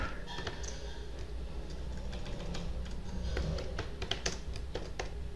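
Java code being typed on a computer keyboard: soft, quick keystroke taps in uneven bursts, close by over a steady low background hum.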